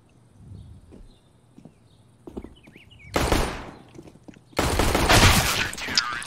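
Gunfire from a pistol in a competitive shooter game, a couple of sharp close bursts after faint clicks and footsteps, the later shots louder and ringing out for over a second.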